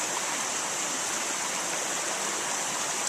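A cold river flows steadily close by, making a loud, even rushing hiss of water with no talking.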